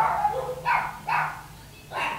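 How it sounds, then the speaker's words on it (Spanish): Several dogs bark in the distance, three or four short bursts spaced about half a second apart, rising faintly behind a quiet indoor room during a card game session. "Espero que no se escuchen esos perros"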